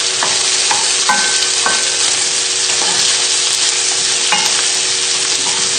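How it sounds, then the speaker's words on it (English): Sausages fry in a pan on the hob with a steady, loud sizzle, broken by several sharp scrapes and knocks as a utensil stirs them. "So just give these sausages another little stir."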